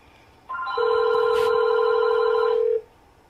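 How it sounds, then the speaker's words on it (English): A home telephone rings nearby in one loud, steady electronic burst of about two seconds, clear and alone against a quiet room. "You can hear it ringing in the background and on the phone as well"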